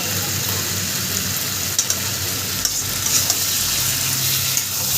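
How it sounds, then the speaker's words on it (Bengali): Steamed jackfruit being sautéed with a little water in a pan, a steady broadband sizzle with a few soft clinks of a spoon, close and continuous. "ভাপিয়ে রাখা কাঁঠাল দিয়ে আমি সুন্দর করে কষিয়ে নেব সামান্য একটু পরিমাণে জল দিয়ে"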